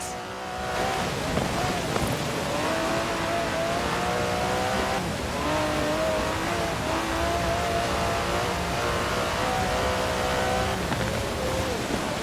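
An Aston Martin DB11 in Forza Horizon 4 runs with a steady engine drone, its pitch gliding up and down through gear changes. The sound holds loud and continuous throughout, with a faint hiss layered beneath it.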